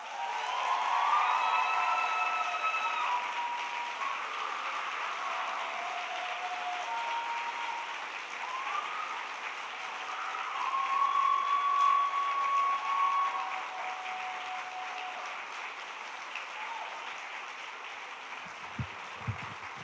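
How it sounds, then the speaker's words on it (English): An audience at a diversity monologue event applauds and cheers, with sustained clapping and scattered whoops that swell mid-way before slowly thinning out, a few final claps lingering at the end. "Y'all not cheering loud enough for me."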